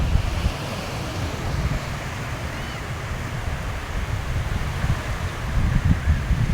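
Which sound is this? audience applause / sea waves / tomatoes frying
sea waves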